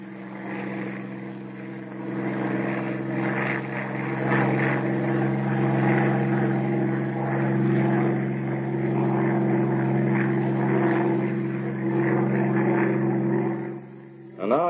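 A Bell P-39 Airacobra fighter's engine drones steadily in flight, a low even roar with strong harmonic hum that swells slightly in the middle and ends abruptly.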